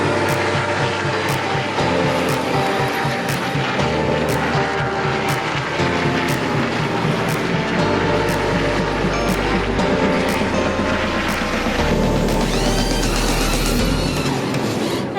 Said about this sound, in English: an entire nation was riled up celebrating the sound of stock car